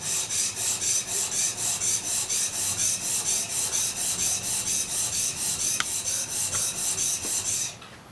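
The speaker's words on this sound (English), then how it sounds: "This is 250 grit sandpaper on a granite block." A spokeshave's metal sole is rubbed back and forth on 250 grit sandpaper laid over a granite block, making steady rhythmic rasping strokes, about two per second, close and loud until they stop abruptly near the end.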